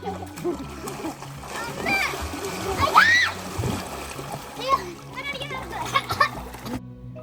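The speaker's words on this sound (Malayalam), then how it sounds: "പിള്ളേരൊക്കെ ഇങ്ങനെ പുഴയിൽ ഭയങ്കര നീന്തൽ വഴുത്തവും ചാട്ടവും ഒക്കെ ആയിരുന്നു" Children shouting, jumping and splashing in a river, repeated splashes mixed with excited young voices, close and lively.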